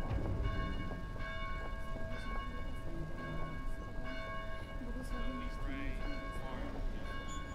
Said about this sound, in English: Maybe you can figure out how to silence those blasted bells.